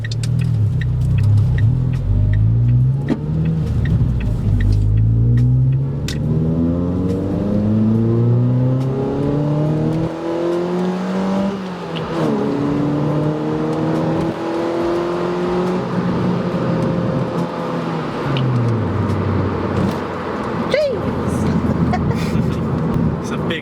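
A remapped car drives and accelerates hard, its engine note climbing loud and close through several gear changes, dropping and rising again, with a steady road rumble underneath.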